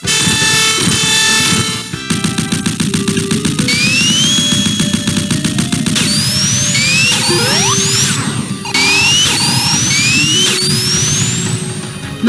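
Sonic 2 Oil Ocean music blares during a level under a glitched cheat code, a loud, dense mix of synth tones, rising chirp sweeps and crashing bursts that carries on continuously without any voice.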